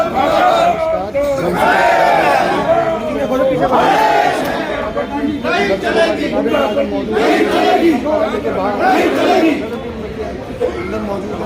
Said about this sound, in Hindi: नगर निगम फरीदाबाद के सैकड़ों एम्प्लॉय जो हैं यहाँ पर नगर निगम मुर्दाबाद के नारे लगा रहे हैं